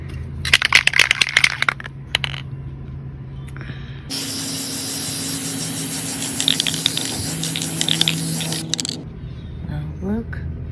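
A person talks briefly, then a Rust-Oleum Painter's Touch spray paint can hisses onto a box in one long continuous burst lasting several seconds before stopping, with a faint rattle at the end.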